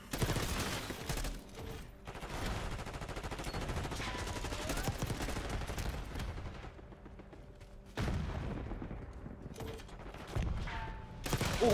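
Rapid automatic gunfire from an XM4 assault rifle in the shooter game Black Ops 6, with dense bursts of shots, explosions and battle noise that drop away briefly and then return, loud and close.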